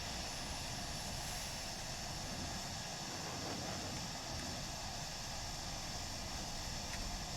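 A fighter jet in Arma 3 roars steadily through its takeoff run, a loud, continuous broadband engine rush that holds level without pause, with no talking over it.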